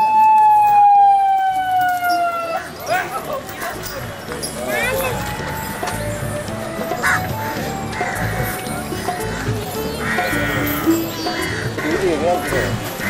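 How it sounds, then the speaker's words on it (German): A siren wails at a river beside an elephant orphanage, warning people to clear the way. The loud falling tone lasts about two seconds before giving way to busy crowd noise and voices. "Mit Sirenengeheul werden die Leute am Fluss aufgefordert, Platz zu machen, weil die Elefanten kommen."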